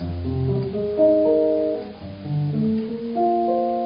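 Clean jazz guitar chords built in fifths ring out one after another, a few plucked voicings sustaining briefly, played alone at moderate volume.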